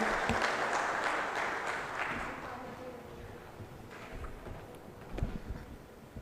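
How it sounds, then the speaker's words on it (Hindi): Loud, steady applause greets the SP at a Jhalawar awards ceremony, with a dense wash of clapping from a large audience. It slowly fades but keeps going, and a few louder claps stand out near the end. "जोरदार तालियों के साथ स्वागत कीजिए एसपी साहब का"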